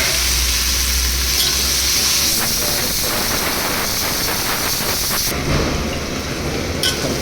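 Small cut potato pieces for a Nepali-style cauliflower and potato curry fry in hot oil, hissing steadily and loudly while being stirred around the pan, with occasional clinks.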